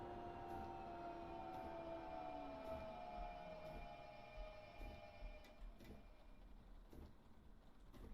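A train in a train simulator video game brakes to a stop at Innsbruck Westbahnhof on the Mittenwaldbahn line, with a steady loud drone and high brake whine sliding downward, then faint rumbling and light clicks as it slows.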